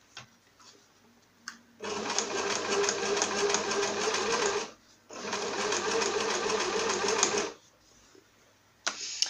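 Domestic sewing machine stitching fabric for a pouch, two long steady runs of loud, close whirring and rapid needle chatter separated by a brief pause, with no voices.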